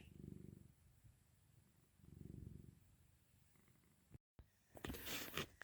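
A cat purring close by in the morning, low rhythmic rumbles rising and falling in two long cycles, followed by a brief louder rustle.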